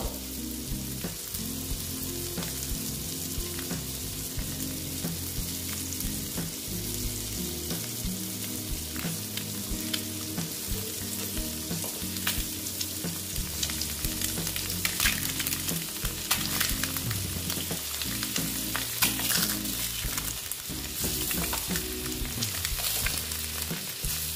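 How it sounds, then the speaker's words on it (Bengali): Eggs fry in a pan with a little oil, giving a steady, moderate sizzle with occasional soft pops and stirring sounds throughout, with no talking. "ভেজে নিচ্ছি ডিমগুলো।"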